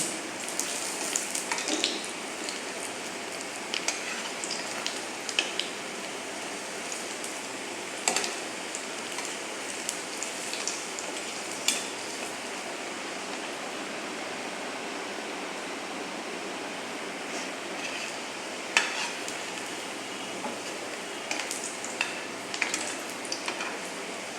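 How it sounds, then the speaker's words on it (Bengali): Cabbage cutlets sizzling in hot oil in a pan as they are turned over, a steady dense crackling hiss throughout with a few sharper spits and pops standing out; no voices. "দেখুন আমার এগুলা ভাজা হয়ে অর্ধেক ভাজা হয়ে গেছে এখন আমি উল্টিয়ে দিচ্ছি"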